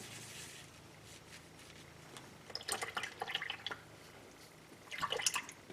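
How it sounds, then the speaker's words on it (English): A paintbrush is swished and rinsed in brush cleaner, giving soft liquid sloshes and drips in two short bursts separated by quieter stretches, close and fairly faint. "I'm going to use this brush cleaner to make sure it's all out of there."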